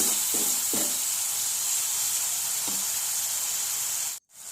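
Tomatoes sauté in a hot pan for prawns kothu chapathi, giving a steady close sizzling hiss with a few soft stirring scrapes near the start and a brief cutoff at the end.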